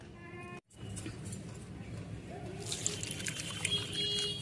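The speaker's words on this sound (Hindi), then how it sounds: "मैं इसमें पानी लगा देती हूँ।" Water pours gently onto the crumbly soil of a potted hibiscus plant, a faint steady trickle over a low background hum.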